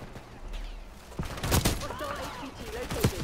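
Gunfire in Call of Duty Black Ops 6 multiplayer: a few sharp shots and bursts, fairly quiet and set back, mixed under radio-style voice chatter and game effects.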